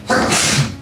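A single sharp sneeze from a man, a short burst of breathy noise close to the microphone with no talk over it.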